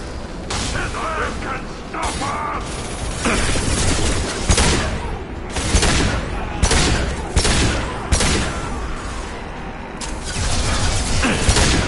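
Dense, loud gunfire from a Mass Effect 2 firefight, with rapid weapon bursts and booms layered continuously over several seconds and voices shouting in the mix.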